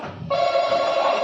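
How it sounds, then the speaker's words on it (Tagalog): Telephone ring tone played as a sound cue in a guessing game: a steady electronic bell-like trill begins after a brief low murmur and continues loud and unbroken to the end, with no talking over it. "Parang telepono pa lang to."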